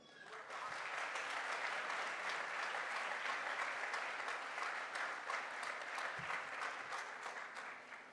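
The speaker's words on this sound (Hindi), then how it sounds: "एक बार तालियां हो जाए" An audience at a diamond promotion celebration gives dense, sustained applause that holds evenly for about eight seconds and then tapers slightly.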